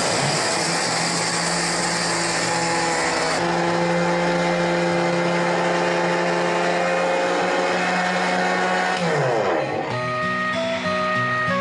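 A kitchen mixer grinder runs steadily, grinding roasted fenugreek seeds with a loud, continuous whirring motor, its pitch shifting partway through and again near the end as the jar contents settle.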